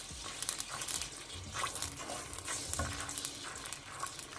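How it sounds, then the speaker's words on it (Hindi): Garlic and ginger paste fries and is stirred in a pan for mixed daal, with steady close sizzling and scraping spatula strokes throughout, no talk. "मिक्स करने के बाद हम इसको अच्छे से पका लेंगे ताकि ये इसमें जो है लहसुन अदरक का पेस्ट उसकी स्मेल ख़त्म हो जाए"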